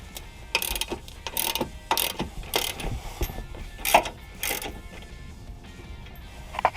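A ratchet wrench loosens the 15 mm and 10 mm bolts holding the belly pan on a Chevrolet Silverado 1500 pickup, giving bursts of close, quick metallic clicking with short pauses between runs.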